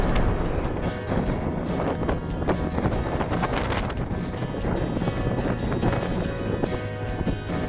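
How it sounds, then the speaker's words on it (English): Strong wind buffets the microphone in a loud, continuous roar with gusty rumbling throughout, on the Weardale Way along an old railway line. "It's very, very windy."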